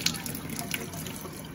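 Water being poured into a cup, a short close-up trickle and splash at low volume, alone without talk.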